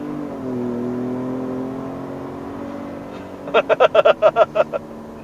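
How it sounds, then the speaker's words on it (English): A 2020 Ford F-150 Raptor pickup truck accelerating hard from 0 to 60, its exhaust droning steadily and rising in pitch for several seconds, then giving way to a short burst of someone talking. "Oh, the exhaust note is actually pretty good."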